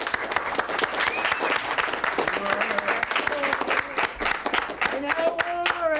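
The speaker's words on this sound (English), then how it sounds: "Let's have a round of applause for Mr." Steady applause from an audience fills the whole stretch, many hands clapping densely, with a few voices calling out over it.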